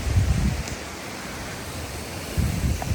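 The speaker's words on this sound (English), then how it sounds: "It's pretty freaking windy up here." Strong wind gusts buffet the microphone on an exposed Alaskan hillside near Talkeetna, swelling in loud rumbling bursts at the start and end with a softer rush between.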